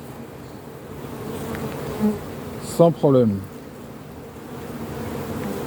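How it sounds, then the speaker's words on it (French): Honeybees from an open hive of a wintering colony humming steadily in the background, a soft continuous drone under brief French speech. "Il y a beaucoup d'abeilles."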